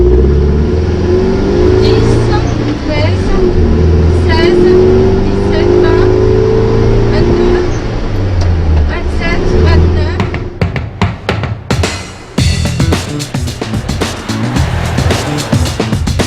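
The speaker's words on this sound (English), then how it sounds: "It's the chance for the biggest engines to open up and let rip on a road that's been closed off for the competitors" Rally car engines rev and roar on a closed stage road at the Maroc Classic rally, a loud sustained drone with rising pitch sweeps for about ten seconds, then breaking into choppier bursts and clatter toward the end.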